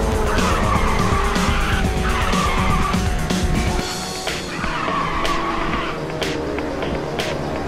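Race cars in Ridge Racer 6 on Xbox 360 roar along with a nitrous boost, loud engine whine under repeated long tire squeals and skids, dense and continuous with no talking.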